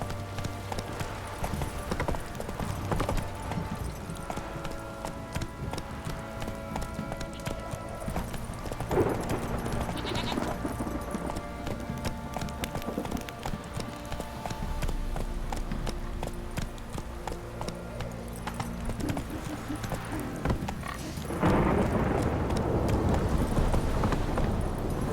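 Steady rhythmic hoofbeats of the horse Roach galloping in The Witcher 3, a continuous drumming clip-clop running for the whole stretch over game music and ambience, loud and close, with a brief voice.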